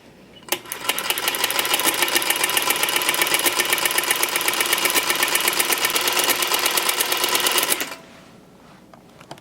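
A sewing machine fitted with a ruffler attachment set to pleat every 12 stitches runs in one steady, loud, rapid mechanical rattle for about seven seconds before stopping.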